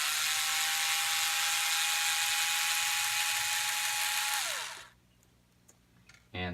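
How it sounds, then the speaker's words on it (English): A power screwdriver backs a screw out of the frame of a CR12 RC 4x4 crawler, whirring loudly and steadily for several seconds before winding down to quiet, with a faint knock just after. "So first things first, pull our screw out right here."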